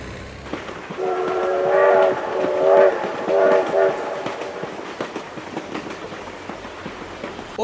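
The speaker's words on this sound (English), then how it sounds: "Oh my god, train!" Train in a video game rumbling past with a loud, repeated multi-tone horn blasts and faint rail clatter, the horn swelling in three bursts before fading.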